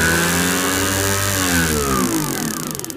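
A small pit bike engine with a CDI ignition revs hard and steadily, its pitch climbing and holding in a loud, buzzing drone.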